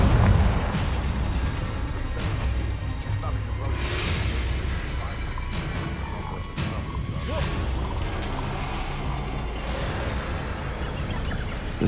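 Confringo spell blasts in Hogwarts Legacy, several sharp bursts and crashes rising out of a steady rumbling ambience, spaced a few seconds apart.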